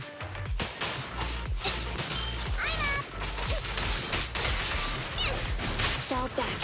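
Game cat from Zenless Zone Zero meowing in several short harmonic calls over a busy, loud mix of combat crashes and thuds, with some voice activity around them.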